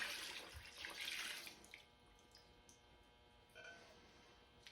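Water mixed with Hive Alive pours into a bucket of sugar, a brief splashing gush for about two seconds that fades to faint trickles and a few soft taps, close and quiet.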